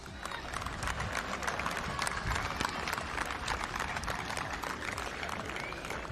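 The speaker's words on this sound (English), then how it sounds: "Let's give them another round of applause" Applause for the South Melbourne FC football team at the 2024 NPL Victoria grand final ceremony: a dense, sustained crowd clapping with scattered sharp claps, steady and fairly distant throughout.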